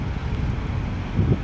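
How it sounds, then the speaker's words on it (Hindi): Steady wind rushes and buffets against the microphone at Sanjay Lake park on a cool morning after rain, a low continuous roar with a few stronger gusts near the end. "हवा चल रही है प्यारी प्यारी हवा"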